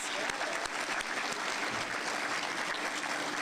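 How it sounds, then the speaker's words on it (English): Steady applause from an audience honoring student debaters, a dense wash of clapping that holds evenly throughout, with a faint voice underneath. "these students deserve a resounding round of applause"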